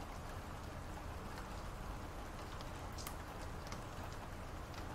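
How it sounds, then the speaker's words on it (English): Steady light rain patters against a window pane, a soft continuous wash with faint scattered drips, calm and unbroken throughout. "Listen to the rain as you relax and listen to me."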